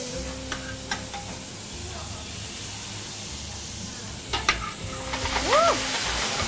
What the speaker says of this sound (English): I'm sautéing it with onion and olive oil